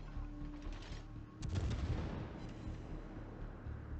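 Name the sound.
naval gun salvos in the video game World of Warships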